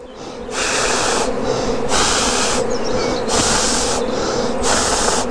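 Honeybees on a hive frame of honey and brood buzz steadily and close while a beekeeper transfers a nucleus colony into a hive, broken by several loud, rhythmic bursts of blown breath over the frame.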